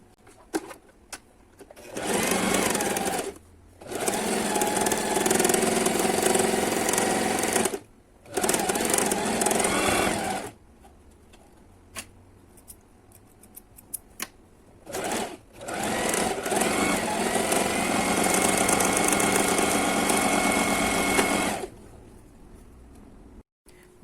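A sewing machine stitches together fabric mask pieces in several loud bursts of rapid whirring, each several seconds long and separated by pauses, up close.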